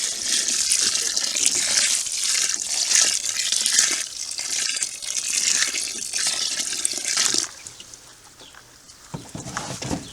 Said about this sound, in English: And I'm going to water this, even though it looks moist.